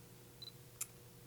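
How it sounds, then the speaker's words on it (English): A Fujifilm X20 compact camera gives a faint beep, then a single short, sharp artificial shutter click, close up in an otherwise quiet room. "the sound that you hear, the clicking sound, that's just, there is a shutter, but there's also an artificial shutter sound"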